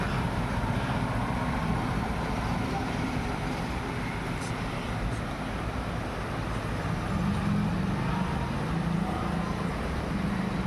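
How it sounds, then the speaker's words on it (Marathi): A steady, dense roar of heavy May rain and gusting wind continues unbroken, fairly loud and without pause. "वारा पाऊस वारा पाऊस येतोय"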